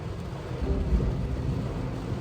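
Heavy rain pounds on window glass in a small enclosed space, a dense, steady wash of drumming with a low rumble underneath, constant and close throughout.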